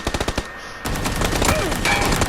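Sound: gunfire in the video game PUBG

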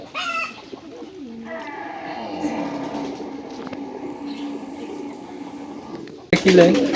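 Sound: racing pigeon cooing in a loft

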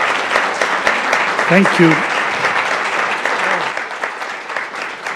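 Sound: audience applause for a panel

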